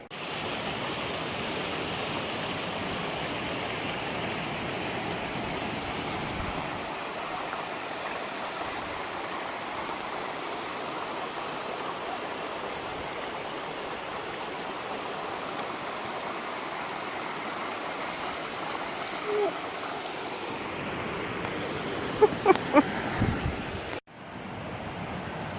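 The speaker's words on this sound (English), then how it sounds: "Streams are just amazing." A stream flows along a hiking trail in the Laurel Highlands, a steady rushing wash of water lasting throughout, with a few brief knocks and rustles near the end and no talking.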